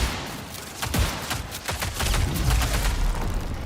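Video game gunfire from other players: a rapid scatter of sharp shots and booms, several overlapping bursts that grow denser and louder toward the end, with no talking.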